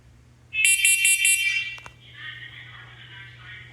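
A carbon monoxide alarm under test gives a loud, close series of four rapid high-pitched beeps. A fainter electronic tone follows and fades over a steady low background hum.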